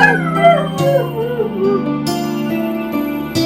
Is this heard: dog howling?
yes